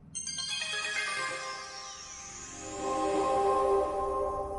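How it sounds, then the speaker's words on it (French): An electronic tone sounds to grant access to data, a bright synthesized chime whose layered tones sweep and shift, then settle into a sustained glowing chord that swells in the latter half, with no voices. "Une tonalité se fait entendre autorisant l'accès aux données."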